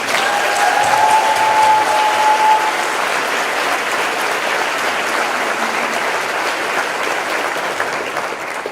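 A crowd at a university physician assistant long coat ceremony applauds in a long, even round of clapping, full and steady before gradually easing off toward the end.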